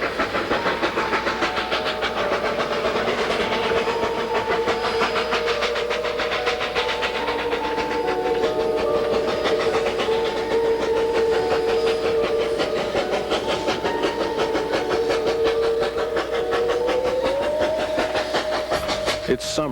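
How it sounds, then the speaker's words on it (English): Durango & Silverton narrow gauge steam train running through the snowy San Juan mountains in winter, a steady, loud rumble and clatter of the cars with a sustained whistle-like tone throughout, with music or narration layered over it. "Narrow gauge railroading in the silvery San Juan winter."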